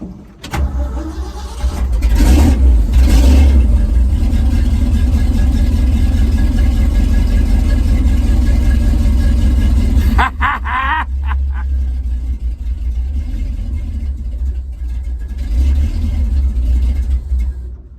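Carbureted car engine idling after a carburetor adjustment, starting up, then running in a loud steady rumble with a brief stumble midway before settling back.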